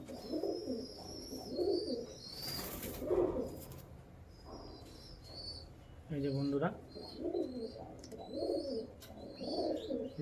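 Repeated low male pigeon coos roll on through the clip beside chirping birds, while someone talks briefly over them.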